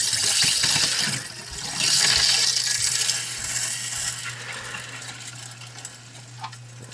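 Water rushing through household pipes after the main valve is opened to pressurize a house during a bladder tank replacement, a loud hissing surge that swells twice and then eases into a fainter steady flow.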